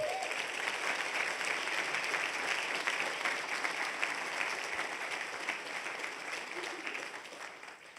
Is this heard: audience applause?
yes